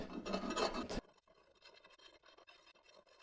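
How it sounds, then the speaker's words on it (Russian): A hand scraper strips paint off metal on an old machine, a loud harsh rasp at first, then quieter, rhythmic scratching strokes close by. "Еще один плюс счищать краску шабером — это экономия."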